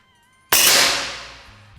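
One loud report from a PCP air rifle with a suppressor, firing a slug: an abrupt crack after a quiet moment, then a long fading tail, with no voices over it.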